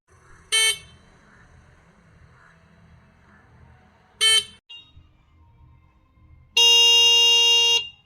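A car horn honks in three blasts: two short beeps, then one long sustained honk, loud and close over a low rumbling background.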